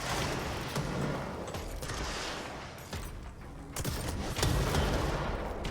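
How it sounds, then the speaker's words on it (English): Heavy weapon fire in the video game Control, a missile-launcher-like blast repeating as dense booming bursts over a steady rumble, loud and close with no talking. "It's like a missile launcher."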